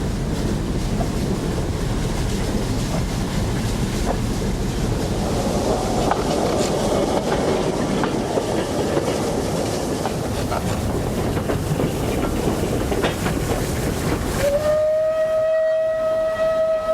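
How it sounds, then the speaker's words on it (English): A 100-year-old steam cog-rail locomotive on the narrow-gauge Schafberg line in Austria rolls slowly past with a steady loud rumble and clatter, then gives a sustained whistle near the end. "this 100-year-old steam locomotive that slowly rides by over a narrow-gauge track"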